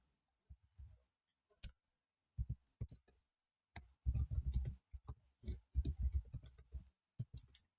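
Fingers type on a computer keyboard in short bursts of crisp, close clicks separated by pauses, with denser runs of keystrokes toward the end and no speech.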